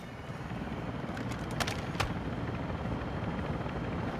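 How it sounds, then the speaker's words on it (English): A helicopter arrives for extraction in Call of Duty Modern Warfare's Building 21 mode. Its rotors make a steady, fairly faint, whooshing rumble, and a couple of sharp clicks cut through it. "Here's the chopper."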